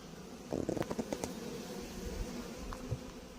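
Steady low buzzing of honeybees just brought out after wintering fills the background, with a short run of clicks and taps near the start as a hive pallet is opened, no voices.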